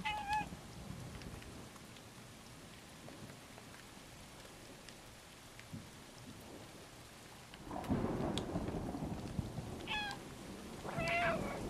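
A cat meows a few short times in the video game Stray, with steady rain and low rumbling thunder underneath that swells louder toward the end.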